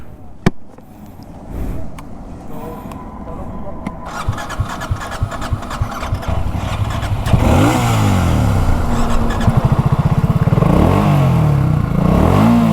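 Royal Enfield GT650 and BSA Goldstar 650 motorcycles drag racing: engines fire up and idle, then rev hard and accelerate with rising and falling pitch sweeps, loud and close, while people talk.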